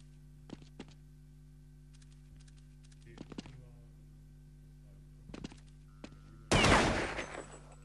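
Sniper rifle shots in a Counter-Strike 1.6 match: a few faint, sharp cracks spaced through quiet game ambience, then one loud, harsh blast near the end.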